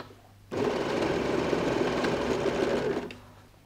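A sewing machine runs in one steady burst of about two and a half seconds while stitching the bottom of a quilted toiletry bag lining, a close, even whirring hum with no talking.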